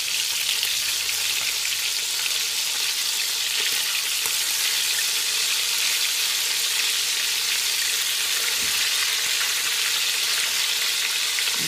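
Constant crackling sizzle of chicken wings frying in hot oil, dense and even throughout, close up with no talking.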